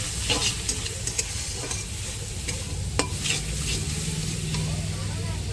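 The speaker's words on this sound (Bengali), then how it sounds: "হলুদ গুঁড়ো দিয়ে ভালো করে আর একটু মশলাটাকে কষিয়ে নেব নাড়াচাড়া দিয়ে" Spice masala with turmeric powder sizzles and fries in a pan for an egg and papaya dish, with steady scraping stirs and small clinks layered over a continuous close-up crackle.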